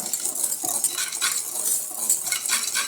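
A utensil scrapes and clinks against a bowl while flour and sugar are stirred together for lemon squares, a steady close-up rhythm of light metallic taps and scraping with no voices.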